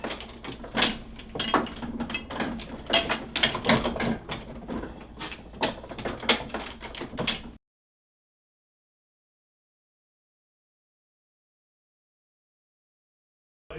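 Mechanical clacks and thumps from a printing press working in a print shop, irregular knocking and sliding strokes for several seconds before the sound cuts to silence.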